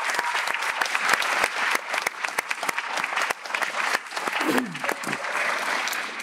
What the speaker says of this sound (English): Please give another round of applause for the USD Percussion Ensemble.